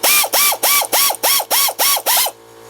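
Hand ratchet clicking in eight quick, even bursts while tightening the brake caliper bracket bolts on a 2007-2012 Nissan Altima rear brake, close and loud, then stopping into near silence.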